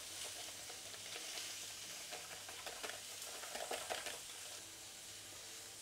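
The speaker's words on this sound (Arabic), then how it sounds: "نحرك" A spiced sauce with nutmeg, white pepper and garlic sizzles quietly in a pan while being stirred, a faint continuous hiss with light scraping strokes building in the middle.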